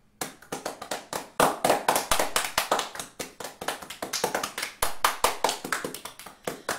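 Hands tapping on a cup during a children's music activity: a long run of quick, dry taps in an irregular rhythm, fairly close and clear, with no talking.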